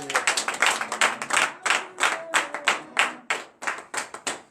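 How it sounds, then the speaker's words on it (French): Rhythmic group clapping from a congregation at a morning prayer service in Benin, steady sharp claps in quick beats, close and lively, with a few voices underneath. "Donnez de vive acclamation à notre Seigneur."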